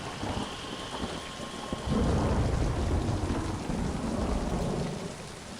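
Heavy rain pours steadily in the video game Mind: Path to Thalamus, with a low rumble of thunder swelling louder around the middle and holding on as a dense, close downpour.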